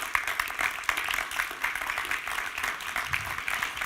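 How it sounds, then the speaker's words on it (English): An audience claps steadily, welcoming speakers onto a stage at a European policy event; the applause is moderate and continuous, heard from within the hall. "Please give them a warm round of applause."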